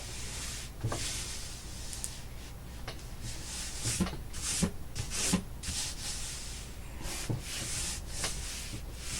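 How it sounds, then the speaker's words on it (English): Continuous rubbing and crinkling of paper where glue has not stuck, with scattered soft crackles and scrapes, close by, with no talking. "You hear crinkling, glue hasn't stuck."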